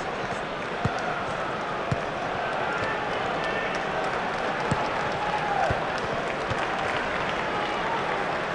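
A football video game crowd cheers and roars continuously in the background under a commentator's voice, with occasional sharp thuds.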